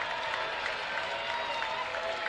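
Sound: baseball crowd cheering

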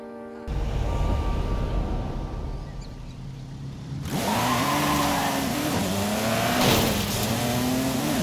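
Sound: Mercedes-Benz Tankpool 24 Racing Truck engine in video game Forza Horizon 5

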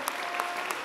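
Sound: audience applause for performers

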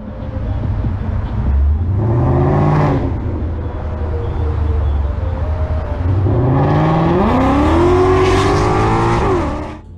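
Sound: Ford Mustang accelerating during police chase

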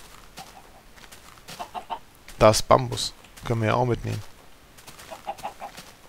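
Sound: chickens clucking in Minecraft video game

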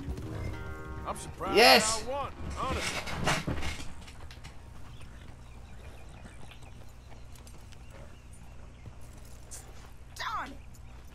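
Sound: horse galloping in a video game race

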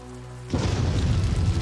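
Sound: thunder and rain in horror video game Terror at Oakheart

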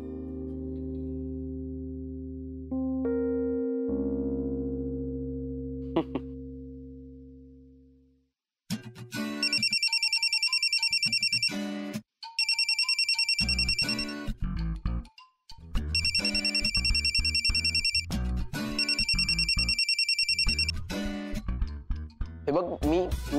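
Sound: phone ringtone ringing

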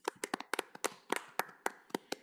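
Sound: applause at a library board meeting

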